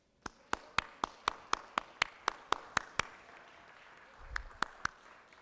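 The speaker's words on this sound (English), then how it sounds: "let's give them a round of applause." A round of applause in the Georgia Senate chamber, heard as about a dozen sharp, evenly spaced claps from a nearby source, with a brief rumble and a few more claps near the end.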